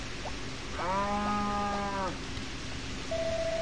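A sheep in the Harvest Moon video game gives one bleating call that rises and holds for about a second, then breaks off over a soft background, with a brief chime after it and no talking.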